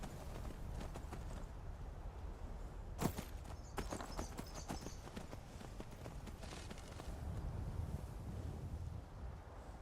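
A horse's hooves clip-clop steadily in the modded video game The Elder Scrolls V: Skyrim, a quiet, continuous rhythmic trot with a few sharper impacts.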